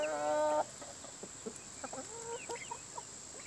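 A short harmonic call opens, then chickens cluck softly in scattered, brief notes nearby against a faint steady hum.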